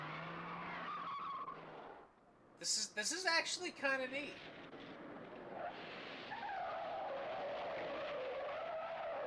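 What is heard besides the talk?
car braking hard with anti-lock brakes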